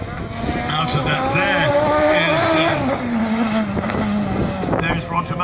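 A Toyota WR Starlet rally car drives past during a King of the Hill hillclimb event, its engine note rising and falling through gear changes under a commentator's talk, with some wind noise.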